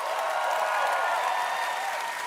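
An audience at TwitchCon Rotterdam 2025 claps steadily, a close, even wash of many hands applauding without pause for about two seconds.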